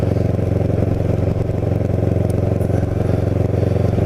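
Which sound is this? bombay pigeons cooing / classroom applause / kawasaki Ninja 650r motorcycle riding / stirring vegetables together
kawasaki Ninja 650r motorcycle riding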